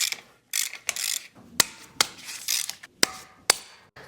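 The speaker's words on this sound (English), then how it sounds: "So the first thing we got to do is remove these three bolts." A hand ratchet clicks in short bursts while short bolts are loosened from the engine lifting bracket on a 1968 M715 truck, sharp nearby ticks and rattles spaced irregularly.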